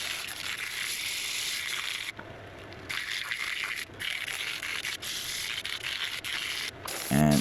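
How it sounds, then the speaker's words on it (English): A redgum burl wood bowl is sanded, likely on a woodturning lathe, giving a steady, close rasping hiss broken by a few short pauses. "And so now I'm moving into the sanding portion."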